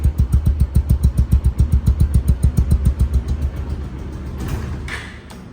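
A used Pulsar double-disc ABS motorcycle with about 1200 km on it idles close by with a steady, throbbing putter that softens slightly toward the end, joined by a brief mechanical rustle.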